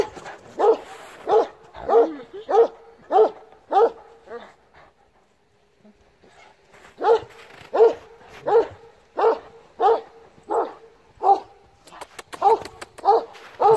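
A young Kangal dog gives repeated close, high whimpering yelps and barks in rhythmic bursts, pauses briefly, then starts again with the same insistent cries.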